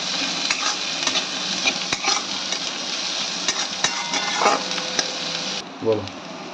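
Chopped onion is stir-fried in a pan, giving a continuous close sizzle with repeated spatula scrapes and taps, and the sizzle cuts off abruptly just before a last soft clatter.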